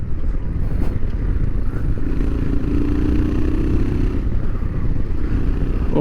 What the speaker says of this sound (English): This motor feels good. Himalayan feels good.